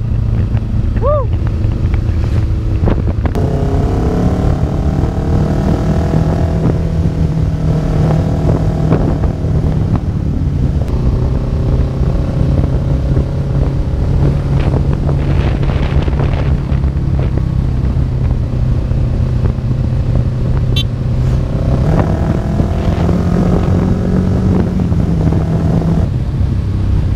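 Kawasaki big bike riding at speed produces a steady engine drone mixed with heavy buffeting wind noise on the microphone, continuous throughout, with occasional voices heard over it.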